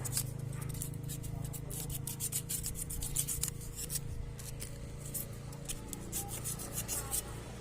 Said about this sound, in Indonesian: ini di amplas, tapi amplasnya halus saja